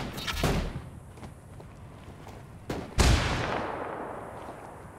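Gunfire in the tactical shooter Ghost Recon Wildlands at a quarry: a loud shot early, then a sharper, heavier blast around the middle that echoes and decays, with faint scattered shots in between.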